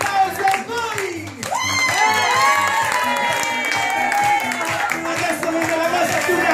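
Birthday party guests clap, cheer and whoop over pounding party music, with a host's voice calling out near the start before the sustained applause swells.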